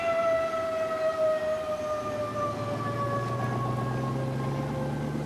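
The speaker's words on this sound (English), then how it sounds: "An air raid siren is still used to mark the noon hour in Hanoi." Air raid siren sounding to mark noon in Hanoi, a long wailing tone that slowly falls in pitch, loud and sustained over a low background rumble.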